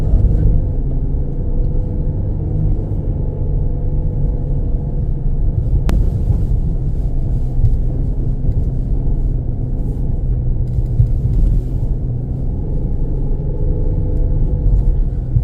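A 2023 Nissan Pathfinder Rock Creek drives through deep sand, its engine and tires making a steady low rumble throughout, loud and continuous from inside the vehicle, with one brief click partway through.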